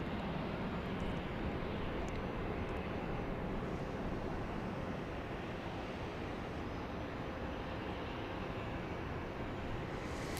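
A plane at Dallas Love Field airport, a steady broadband engine roar that stays loud and even throughout, with no voices over it.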